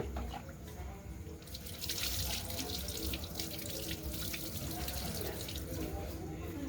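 Tap water runs steadily into a sink for ritual rinsing to remove impurity, a continuous close splashing flow that swells slightly after the first second and carries on without pause.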